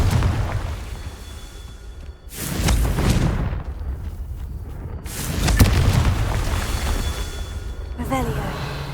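Two booming fiery blasts from the Confringo spell in Hogwarts Legacy, each a loud deep explosion with a rushing whoosh that rolls out over a second or two, separated by quieter game ambience.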